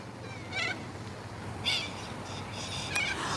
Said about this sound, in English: I think these are galahs or, as Paul said, corellas.